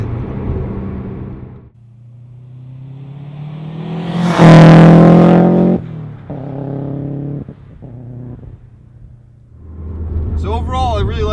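A Subaru WRX fitted with a stainless steel Gimmick Motorsports exhaust accelerates hard. A loud, rising engine roar builds to a peak, then drops into shorter, quieter bursts of revving as it shifts.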